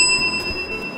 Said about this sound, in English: this is the bell that was sitting on my desk during Putnam County Spelling Bee